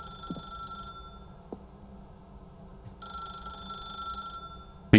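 In the video game The Stanley Parable, a telephone rings in two bursts of repeated electronic trills separated by a quiet gap. A brief voice cuts in at the very end.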